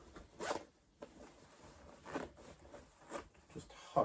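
The zipper on an old bomber-style jacket with a hood is worked in several short, scratchy bursts, close by and separated by brief pauses.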